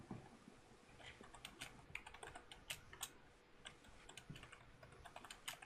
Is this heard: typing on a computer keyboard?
yes